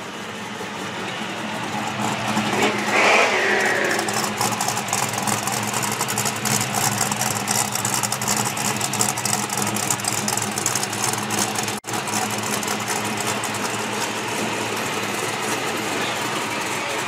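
A 1968 Shelby GT350 with a Paxton supercharger idles steadily nearby, a continuous even rumble with a faint mechanical whir that holds throughout.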